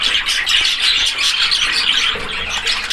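A crowd of parrots, young birds offered for sale, squawks in a dense, continuous, loud chorus of overlapping harsh calls with no talking.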